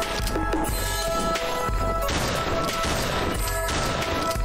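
Shotgun blasts fired by Santa in a holiday-themed shooter video game against snowmen, several loud booming shots in quick irregular succession over a dense, steady game soundscape.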